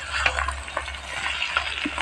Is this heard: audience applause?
no